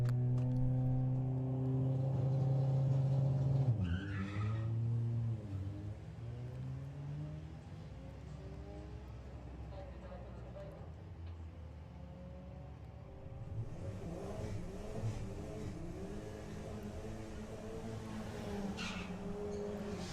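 Volkswagens race at a Santa Pod drag strip, an old-school 1980s Golf against a Passat, engines droning and rising in pitch as they accelerate away, heard from a distance amid a broad outdoor rumble.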